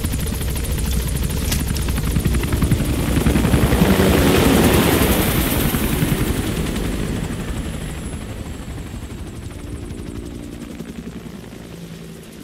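Extraction helicopter arriving at Mother Base in the video game Metal Gear Solid V, a loud rotor roar with rapid chopping blades that swells and then fades slightly, heard alone without talk.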